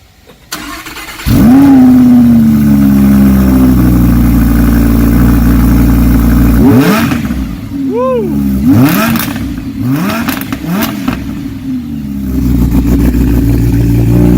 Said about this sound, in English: this is a cold start on a 2018 Audi R8 RWS V10